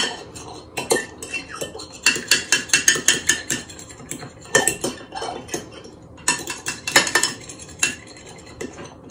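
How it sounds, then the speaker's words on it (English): A fork whisking Victoria sponge cake batter in a bowl, giving rapid bursts of clinking, scraping strokes in irregular clusters with short pauses between them, close and fairly loud with no talking. "Give it a good whisk with your fork."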